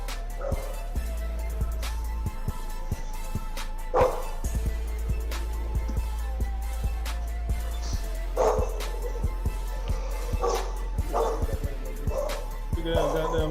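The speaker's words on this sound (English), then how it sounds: "Big ass goddamn dog." A big dog barks in a run of loud, close bow-wow barks spread across the stretch, mixed with a few yips and whimpers, over steady background noise while people talk nearby.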